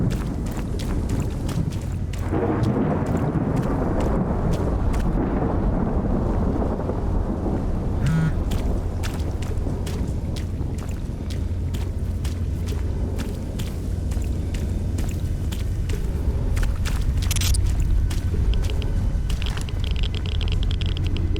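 Steady heavy rain with a rumble of thunder in the video game S.T.A.L.K.E.R. Anomaly, broadband and dense throughout, with scattered sharp crackles and no voices.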